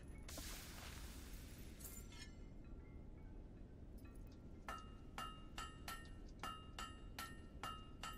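A hammer strikes a blade at a forge in the video game Fable 3, giving a run of sharp metallic clinks in a steady rhythm after a brief burst of noise, moderately loud over a constant background hum.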